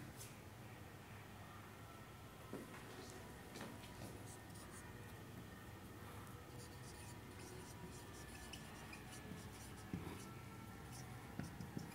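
A pen scratches out accounting journal entries on paper, a faint, continuous scribbling with small taps and strokes in a quiet room.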